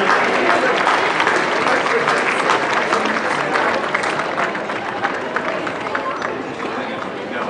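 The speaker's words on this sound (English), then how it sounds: "Big round of applause for our guys today." Sustained crowd applause after a first-grade men's grand final, dense steady clapping from many hands that holds at a loud, even level and eases slightly toward the end.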